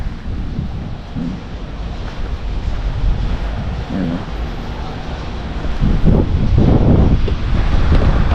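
Strong winter wind blows outdoors around a garden where roses are left standing, a steady broadband roar buffeting the microphone that swells louder in the last few seconds, with faint talk underneath.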